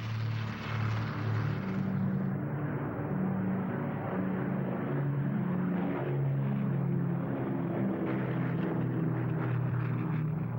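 A propeller-driven Brewster Buffalo fighter drones past in a continuous, loud engine roar with a low throbbing hum. The tone changes slightly as it flies.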